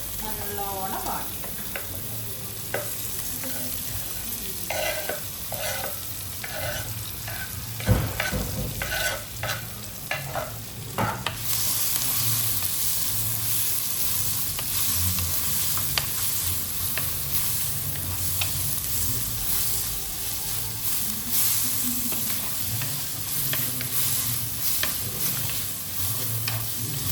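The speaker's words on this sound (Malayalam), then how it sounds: "ഇനി നമുക്ക് നെക്സ്റ്റ് ചെറുള്ളിയും സവാളയും കൂടെ ഇട്ട് നല്ലോണം വാടി." Shallots and onions sauté in a pan with continuous sizzling and frequent stirring scrapes, louder and denser in the second half, with no talk.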